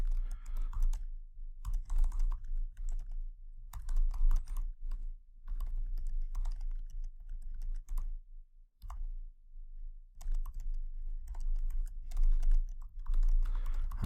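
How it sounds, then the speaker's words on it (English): A computer keyboard is typed on steadily and close up while a random sentence is written in Google Docs. The clicking comes in dense runs broken by brief pauses, alone, with a low hum beneath. "I'll just type out some random sentence"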